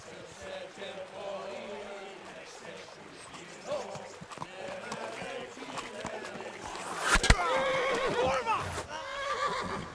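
A horse whinnies in a medieval open-world game by a river bank, with clattering hooves and movement around it; a loud, drawn-out neigh rises near the end over background noise and scattered voices.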